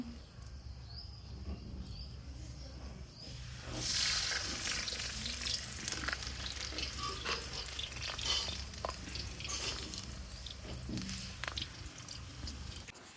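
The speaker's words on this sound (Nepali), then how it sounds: "मम्मीले चाहिँ रोटी पकाउँदै हुनुहुन्छ।" Roti cooking in a pan on a home stove, a faint, steady sizzle with soft scraping and stirring sounds, quiet throughout with no talking.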